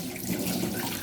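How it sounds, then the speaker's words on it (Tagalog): Vegetables being washed under a running kitchen tap, a steady close rush and splash of water into a sink, continuous and moderately loud, with no voices. "Hugasan muna natin para mamaya hindi na siya"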